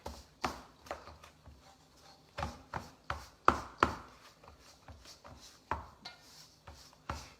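Snickerdoodle cookie dough of butter and sugar being mixed by hand, a series of close, irregular scraping and thudding strokes in a quiet kitchen.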